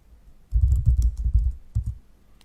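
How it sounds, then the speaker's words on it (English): Rapid keystrokes on a computer keyboard as a terminal command is typed on a Kali Linux setup, a close run of clicks followed by a brief pause and a final couple of keypresses. "You can do that by typing sudo space su."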